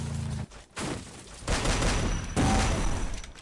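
Gunfire in the Free Fire battle royale game, rapid bursts of automatic shots crackling in quick succession, loud and close, with a brief pause early before sustained firing continues to the end.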